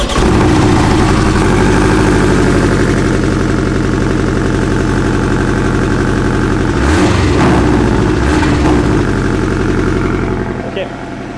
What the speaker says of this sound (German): Der freut sich immer, wenn wir hier den Boxster anmachen.